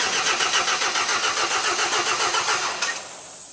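An engine cranks with the throttle held open, a loud, fast, even churning of starter turns that runs for nearly three seconds before cutting off abruptly and leaving a quieter tail.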